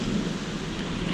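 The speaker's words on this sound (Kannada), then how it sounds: "ತುಂಬ ಚೆನ್ನಾಗಿದೆ ಆಲಿಕಲ್ ಮಲೆ" Hail and rain pound down on an outdoor area in Jalandhar cantonment, Punjab, making a dense, rumbling roar with low thuds, steady and close throughout.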